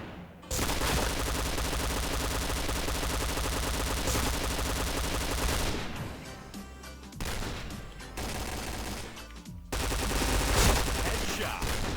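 Dense automatic gunfire in the shooter game Point Blank rattles in long, loud bursts with short pauses between them, close and continuous across the whole stretch.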